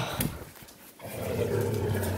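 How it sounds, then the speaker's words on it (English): A pet dog growls during tug-of-war play over a toy, a low rumbling snarl that starts after a brief pause and holds steady and close for about a second. "Oh, don't growl at me."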